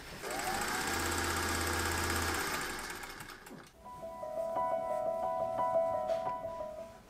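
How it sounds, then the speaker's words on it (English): Sewing machine stitching down the short edges of a folded shirt collar for a pirate shirt, a close, steady rapid whir that runs for a few seconds, pauses briefly, then starts again. "I'm just going to fold this in half lengthwise and sew all the way down both short edges."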